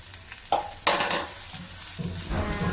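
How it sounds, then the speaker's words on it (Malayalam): Capsicum for a white-sauce chicken pasta sautéing in a pan, with a steady sizzle and bursts of stirring and spatula scrapes, fairly close and alone with no talk. "ജസ്റ്റ് ഒന്ന് സോട്ട് ചെയ്താൽ മതി, പച്ചപ്പൊന്നും മാറിയാൽ മതി"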